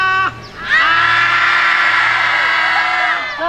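A group of junior high school students on an outing class shout a long, sustained vowel together in unison, loud and close, lasting about three seconds after a brief spoken cue.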